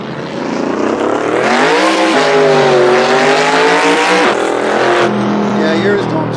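A Mercedes-AMG C63 revs hard and loud up close, its engine note climbing and holding while the tires spin and squeal into smoke, a sustained roar with a brief dip before rising again.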